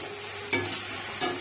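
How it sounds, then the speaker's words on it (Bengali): Okra and potatoes frying with turmeric and salt in a pan, a steady soft sizzle broken by two brief stirring scrapes, close and moderately quiet, with no voices. "এবার এটা ভাজতে থাকি, ভালো করে ভেজে নেব।"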